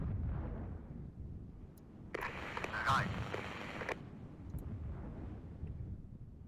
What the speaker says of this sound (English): we have enemy artillery coming in, or our artillery